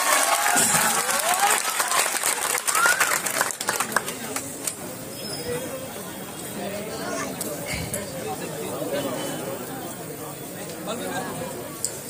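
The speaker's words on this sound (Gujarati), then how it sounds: "તાલીઓથી સ્વાગત કરીએ" A crowd at a public meeting in Gir Somnath, Gujarat, breaks into loud applause that gradually thins into scattered clapping and murmuring voices.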